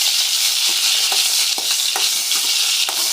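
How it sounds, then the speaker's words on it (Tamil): Five eggplants sauté in sesame oil in a kadai, giving a bright, continuous sizzle close up with soft, irregular stirring knocks throughout. "அதில் வந்து இப்போ ஒரு 5 எண்ணெய் கத்திரிக்காய் வந்து ஆட் பண்ணி வதக்கலாம். அந்த நல்லெண்ணெயிலே வதக்கணும்."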